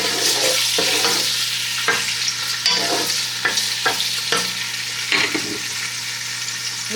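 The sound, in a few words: sliced onions frying in olive oil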